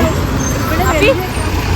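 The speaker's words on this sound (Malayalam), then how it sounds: "അപ്പോൾ നമ്മുടെ ബസ് വന്നിട്ടുണ്ട് കേട്ടോ കയറട്ടെ" A bus bound for Ernakulam via Kaloor pulls up at a roadside stop in Kerala, its engine rumbling loud and close amid traffic noise while people talk over it.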